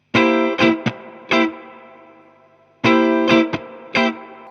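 Distorted electric blues guitar plays short chord stabs in a choppy rhythm, with muted strums between them and chords ringing out before the pattern repeats.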